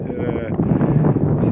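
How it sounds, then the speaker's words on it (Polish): Strong winter wind buffets the microphone with a steady low roar, gusting harder partway through, while a voice talks over it at a pigeon release. "choć jest bardzo mocny wiatr"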